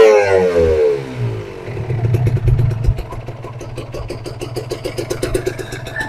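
A two-stroke Kawasaki Ninja RR motorcycle engine revs down from a high whine and then settles into a close, loud, crackling idle with a rapid popping rhythm.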